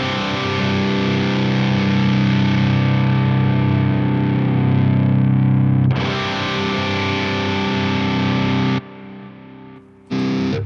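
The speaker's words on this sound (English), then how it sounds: "now let's hear the 5150 in Archetype Nolly." Heavily distorted electric guitar through a 5150 amp model in the Archetype Nolly plugin, dense sustained chugging chords that pause briefly near the six-second mark, drop out around nine seconds, then return in a short final burst; no voices.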